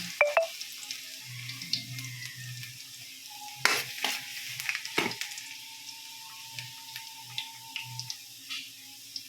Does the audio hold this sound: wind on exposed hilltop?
no